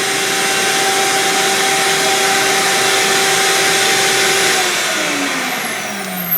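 Vacuum pump running steadily for a vacuum clamping fixture in a workshop, a loud continuous motor whine with a steady hum that holds evenly, then drops in pitch and winds down near the end.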